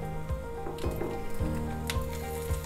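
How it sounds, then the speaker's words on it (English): Salted fish fries in warm oil in a pan, giving a continuous close sizzle with crackling spatters and a faint repeating low mechanical thump underneath. "Hear that sizzle?"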